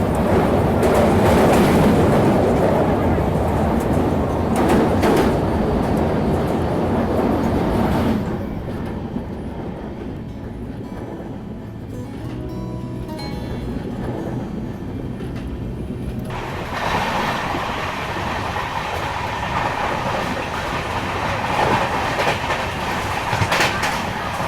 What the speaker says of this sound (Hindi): फिलहाल उसी जुआरी ब्रिज के ऊपर से हमारी ट्रेन गुजर रही है।